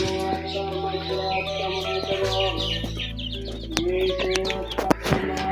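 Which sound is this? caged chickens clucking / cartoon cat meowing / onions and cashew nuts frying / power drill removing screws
caged chickens clucking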